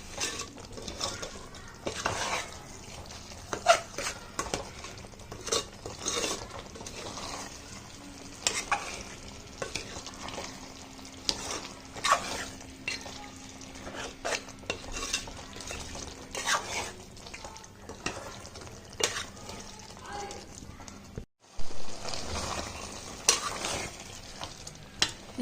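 Curry leaves are stirred into frying chicken curry, with a spoon scraping and clinking in the pan over a steady oil sizzle, rhythmic and close, with a short pause near the end.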